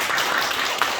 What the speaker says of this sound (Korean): 박수로 좀 환영해 주시고